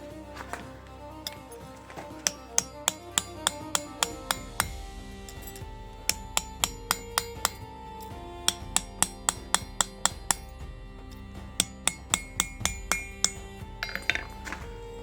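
A forged knife blade is struck repeatedly against steel in a hardness test, giving many sharp, ringing metallic clanks in irregular bursts, close and loud over a steady background hum.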